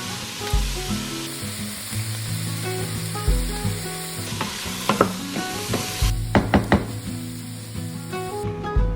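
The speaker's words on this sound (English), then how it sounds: "Stir the vegetables until they are nice and tender." Vegetables sizzle steadily in a pan as a utensil stirs them, with repeated sharp scraping clacks and taps against the pan over the continuous loud frying hiss.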